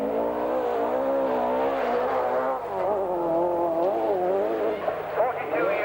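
Two Audi Quattro rally cars lead the field on the rough roads of the 1981 RAC Rally, their engines holding a steady, wavering roar with shifting pitch as they rev, loud and continuous throughout.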